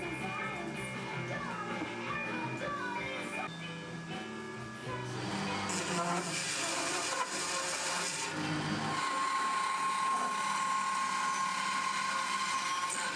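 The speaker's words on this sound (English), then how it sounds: "I removed most of the waste at the bandsaw" Bandsaw cutting away waste from a wooden axe handle tenon, a steady rasping saw noise that grows louder and harsher in the second half, heard alone without talk.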